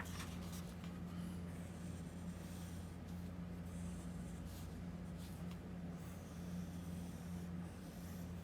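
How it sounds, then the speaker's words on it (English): Pencil drawing shapes on paper, a continuous faint scratching and rubbing of graphite strokes over a low background hum, with no talk. "So please make your squares or your rectangles and draw within those."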